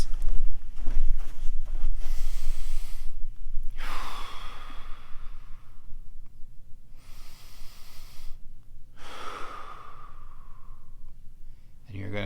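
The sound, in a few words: diaphragmatic breathing exercise, belly breathing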